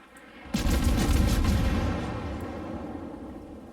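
Naval guns firing high explosive and armor piercing shells in World of Warships, a cruiser battle: a heavy boom hits suddenly and rumbles on, fading slowly over several seconds.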